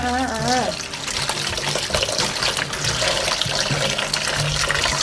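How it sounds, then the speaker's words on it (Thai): Tap water runs loud and steady as raw liver is rinsed in a kitchen, a continuous close gushing splash that fills the clip and begins right after a brief voice. "เสร็จแล้วก็เปิดน้ำล้างเลยจ้ะ"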